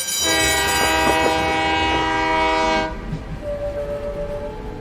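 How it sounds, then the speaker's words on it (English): A train horn blasts loud and steady for about three seconds over rumbling rail noise, then fades to a softer tone as the train rolls on. "the sound of the train whistle is like a lullaby at night"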